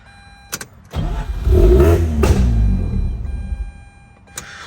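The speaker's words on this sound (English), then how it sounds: "It just starts and dies." A 2004 Mazda RX-8 rotary track car with an idle fault cranks briefly, catches with a loud close rumble for a couple of seconds, then sputters and fades out as it dies.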